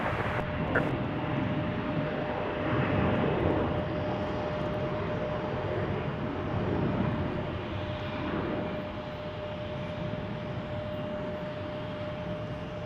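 A Delta airliner comes in to land on runway 34 right at Salt Lake City airport, its engines a steady, broad roar that swells and eases slightly across the stretch, heard from a distance with no talk.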